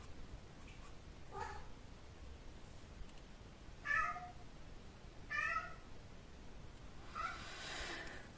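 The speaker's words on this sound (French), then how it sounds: "Peut-être mon chat il me fait un petit coucou." A pet cat meows indoors, three or four faint, drawn-out meows spaced a second or two apart over quiet room hiss.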